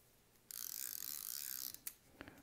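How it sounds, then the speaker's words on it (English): The drag clicker of an Abu Garcia Revo Beast 41L fishing reel gives a rapid, even ratcheting burst of about a second, quiet and close, followed by a few stray clicks. "you'll hear the drag clicker"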